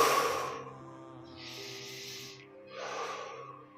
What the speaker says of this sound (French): Encore quatre grandes respires.